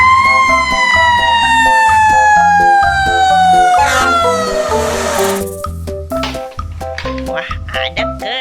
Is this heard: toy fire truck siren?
yes